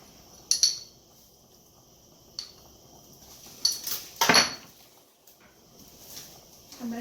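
A lid going onto a cooking pot of peas and pasta on the stove, with several sharp metallic clinks and clatters of pot and utensils spaced across quiet kitchen background.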